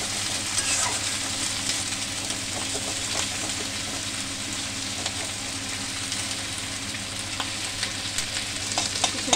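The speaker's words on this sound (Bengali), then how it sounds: "অল্প করে একটু নাড়াচাড়া করে নেব" Mustard seeds fry briefly in hot oil in a pan while being stirred, giving a steady close crackling sizzle with light scraping and occasional pops, no voices.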